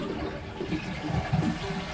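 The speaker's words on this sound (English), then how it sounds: "Flush the toilet." A toilet flushing with its water supply turned off, during a flapper replacement; a short, close gurgling rush of draining water with low churning swells.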